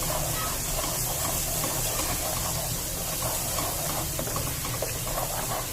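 Garlic and ginger fry in a hot pan, giving off a dense, steady hiss and sizzle that stays close and even throughout, with no talking.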